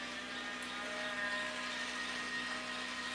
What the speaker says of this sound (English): This is the rechargeable mixer because I make akara a lot.